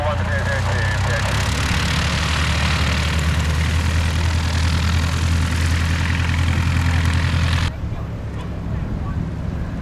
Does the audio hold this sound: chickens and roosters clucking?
no